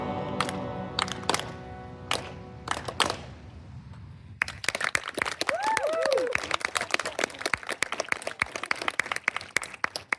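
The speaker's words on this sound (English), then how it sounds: "that clapping was not rehearsed" A concert audience claps along with a sea-shanty group, first in a few separate sharp claps, then in dense rhythmic clapping mixed with cheers and whoops at close range.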